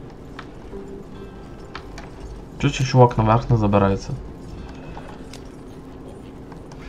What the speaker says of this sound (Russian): Лошадки, давайте. Быстрее.